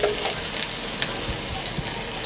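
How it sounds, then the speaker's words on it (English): Green onions fry in hot oil in a wok, giving a dense, bright sizzle that stays loud and steady throughout, heard up close with a few soft stirring bumps and no talk. "add some oil to the wok. Add some green onions"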